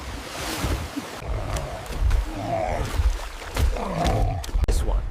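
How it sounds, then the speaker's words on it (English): Ocean roar heard from a distance, a low rumbling wash of surf with surging swells and occasional sharp bursts, layered under dramatic effects and brief voices. "From afar, the roar of the ocean echoes."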